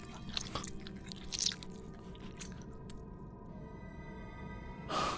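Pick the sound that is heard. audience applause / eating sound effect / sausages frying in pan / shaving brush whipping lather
eating sound effect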